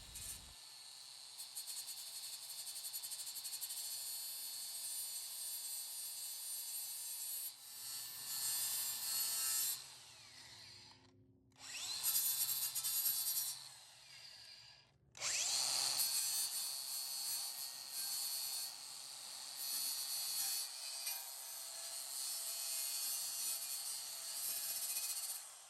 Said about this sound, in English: we just went to town and just very carefully went through and just started grinding this down